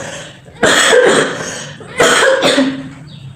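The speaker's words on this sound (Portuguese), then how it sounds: "Eu só tô com uma tosse." Two loud, harsh coughs close up, separated by a short pause, with no talking.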